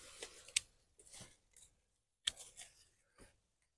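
Scissors snipping field maple bonsai branches at close range, a handful of sharp, separate clicks spread across a few seconds with quiet pauses between cuts.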